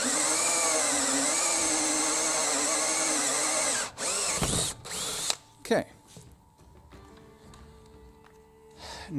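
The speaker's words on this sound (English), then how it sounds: "you just get a little drill or a hole saw like this" A small drill fitted with a 1.5-inch hole saw bores through upcycled wood for a birdhouse, a loud steady high whine for about four seconds, then stuttering bursts as the cut finishes and the drill winds down and stops.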